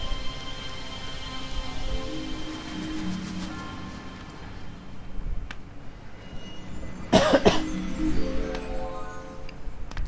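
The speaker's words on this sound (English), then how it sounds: "Sorry about the coughing." A person coughs several times in bursts, fairly close, with a rough throaty sound over a faint steady background.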